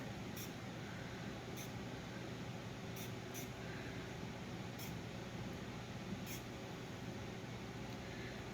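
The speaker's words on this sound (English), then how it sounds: "So I'm just going to spray this" A continuous misting hiss from a spray bottle, with faint, quick trigger clicks repeating now and then.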